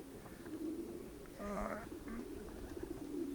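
A domestic pigeon from a breeder's loft coos softly, a short burst of low warbling calls in the middle, fairly faint against quiet background murmur.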